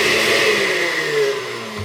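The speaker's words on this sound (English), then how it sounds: "I'm just running a blender" Blender whirring as it mixes honey and lime juice for a drink, a loud, steady motor whine heard close up and alone, running continuously for a couple of seconds.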